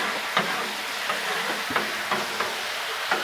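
Shrimp and cooked rice sizzle steadily on a Blackstone griddle, a close, even frying hiss punctuated by a few scraping stirs of a spatula.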